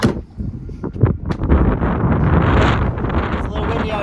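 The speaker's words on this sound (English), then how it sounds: "it's a little windy out here" Strong wind buffets a microphone outdoors beside a Kenworth K100 and GMC cabover trucks, gusting in loud rumbling bursts that settle into a constant roar.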